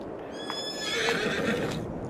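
A horse on a Farming Simulator 22 farm gives a long, clear whinny over soft hoof clops, close and fairly loud with no voices.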